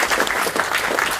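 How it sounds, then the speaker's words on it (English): Dense, sustained applause from an awards-night audience, steady and loud throughout with no pauses or voices on top. "if we give him a round of applause,"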